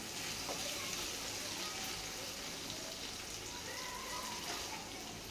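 Tomato and carrot pieces frying in a pan for a Marathi carrot vegetable dish, giving a steady, soft, continuous sizzle with faint crackles and no talk.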